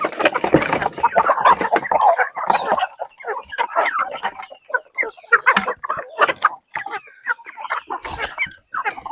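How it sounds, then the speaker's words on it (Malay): Backyard chickens clucking and chattering busily as they eat feed, a dense mix of short overlapping calls and pecking sounds close by, with occasional quiet voices in the background. "ayam-ayam kita ni memang berselera lah makan dia"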